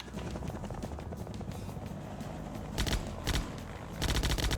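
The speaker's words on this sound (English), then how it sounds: "the helicopter was tuned to be a little bit more responsive as well" Helicopter rotor and engine droning steadily in a video game playtest, overlaid by bursts of rapid gunfire near the end; no talking.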